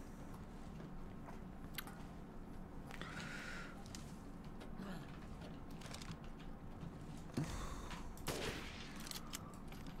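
Gunfire in the video game Resident Evil Village comes as a few sharp shots spread over a quiet, hollow in-game ambience, with scattered clicks and a low steady hum between them.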